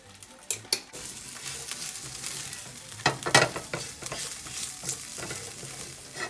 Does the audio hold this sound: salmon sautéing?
yes